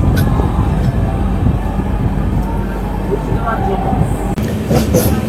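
Sairang–Kolkata Express passenger train running between Murshidabad Junction and Berhampore Court, a steady loud rumble of wheels and carriage noise throughout, with voices talking faintly over it.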